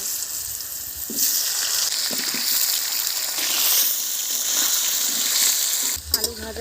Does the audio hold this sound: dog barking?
no